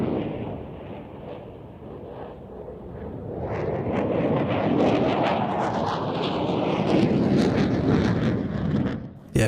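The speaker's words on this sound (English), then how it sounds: "The F-16 completing that Cuban 8, and both aircraft heading out to the left-hand side for the next manoeuvre." Jet roar from F-16 and JF-17 fighters flying airshow manoeuvres, a loud broad rumble that swells as they pass, mixed with wind buffeting on the microphone.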